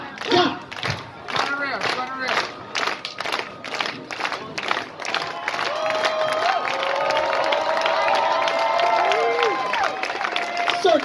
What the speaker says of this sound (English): Let's get a rhythmic clap going.